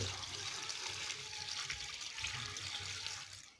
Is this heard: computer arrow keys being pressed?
no